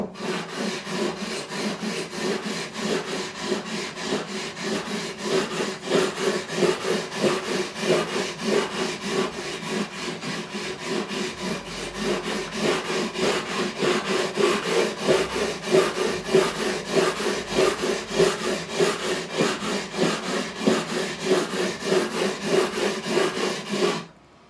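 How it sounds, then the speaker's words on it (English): Frets on a Godin Simon and Patrick Cedar 6 acoustic guitar are sanded across with 240 grit abrasive, producing a close, steady rhythmic scraping of rapid back-and-forth strokes that continues for over twenty seconds before stopping. "So now we're going to go across with a 240 grit."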